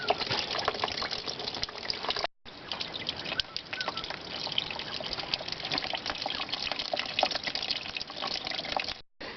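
Coolant drains out of the radiator of a Holden Rodeo with a 2.6 engine, a steady close trickling and splashing liquid stream that briefly cuts out twice.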